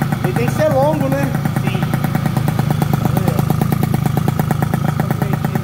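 A Lambretta two-stroke scooter engine runs loud and steady with a buzzing, rattling rhythm throughout, and a voice speaks briefly over it near the start.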